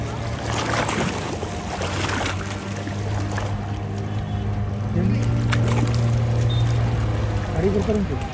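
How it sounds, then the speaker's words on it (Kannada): Boat on a village lake during a search for a missing person, a steady low engine drone running throughout with water and wind noise, voices talking in the background. "ಈಗ ಬೋಟಿನ ಮೂಲಕ, ತೆಪ್ಪದ ಮೂಲಕದ್ದು ದೋಣಿಯಲ್ಲಿ ಈಶ್ವರನ ಹುಡುಕ್ತಾ ಇದ್ದಾರೆ."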